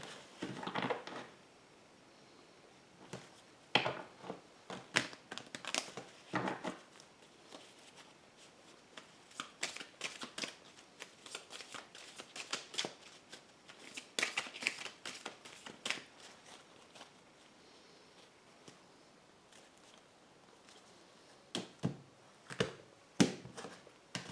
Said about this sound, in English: I have pre-shuffled, but I will shuffle just a bit more